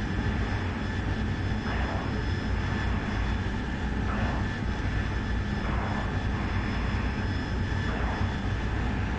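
Simulated AV-8B Harrier jet engine in the DCS flight game, a steady loud whine and roar that holds throughout, with faint swells in the mid range and no voices.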